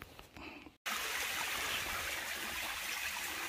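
A forest stream rushes steadily and close by, a dense broadband wash of flowing water that continues without a break after a short quieter stretch at the start.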